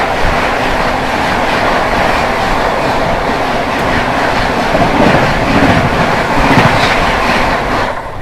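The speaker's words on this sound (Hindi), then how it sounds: "सामने से आ रही है न्यू दिल्ली भुवनेश्वर तेजस राजधानी एक्सप्रेस" The New Delhi–Bhubaneswar Tejas Rajdhani Express passes close by with a loud, continuous rush of railcars and rhythmic clickety-clack of wheels over the rail joints.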